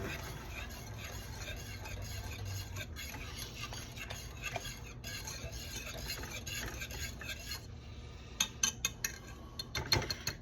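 Honey glaze sauce stirred in a pan on a burner, a soft continuous scraping and swirling with a few sharper clinks of a utensil near the end.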